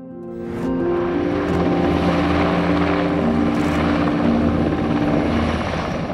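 An NH Industries NH90 military helicopter in flight, a loud, sustained rotor drone with a steady engine hum that swells in after a brief quiet start.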